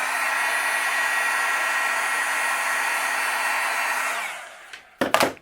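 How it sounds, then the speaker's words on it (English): A heat embossing tool blows hot air in a steady, loud, continuous whoosh with a faint whine, melting embossing powder for cardmaking, then cuts off, followed by a few brief handling knocks. "And then I'll heat emboss this too."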